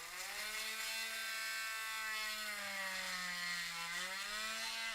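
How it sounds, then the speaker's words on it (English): A drill runs steadily with a bit boring into a plastic toy figure during a neck repair, giving a continuous whining hum with a rising and falling pitch and no talk. "So what I'll do is I take the drill"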